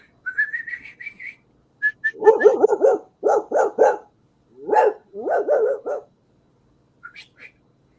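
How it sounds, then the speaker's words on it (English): A dog barks in short loud bursts in a series of clustered yaps, following a high whistle at the start, with brief pauses between groups and little else around them. "Call that dog in there barking and shit."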